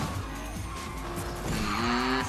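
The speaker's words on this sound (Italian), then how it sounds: "Ora vado bello forte, sgommata." Car tires squealing and skidding during a burnout, a loud continuous screech over engine roar throughout, with no talk.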